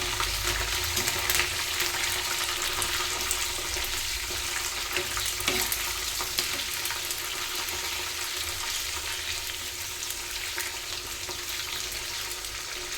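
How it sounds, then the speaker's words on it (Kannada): Cut Byadagi chillies fry in a pan with curry leaves, giving a steady close sizzle and crackle with occasional stirring scrapes, no talk. "ಇದು ಬೇಡಿಗೆ ಮೆಣಸಿನ್ಕಾಯಿ ನೋಡಿ ಈಗ ಕಟ್ ಮಾಡಿ ಹಾಕ್ತಾ ಇದ್ದೀನಿ ಇನ್ನು ಫ್ರೈ ಮಾಡ್ಕೊಳ್ಳೋಣ"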